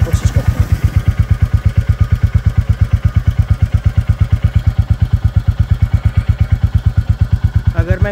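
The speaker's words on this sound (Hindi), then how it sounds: "ये उसका नॉर्मल एग्जॉस्ट साउंड है जो कि इसमें आ रही है।" A Royal Enfield Bullet 350 Battalion Black motorcycle idles with a steady, evenly spaced thumping exhaust beat, loud and close, running alone for about eight seconds.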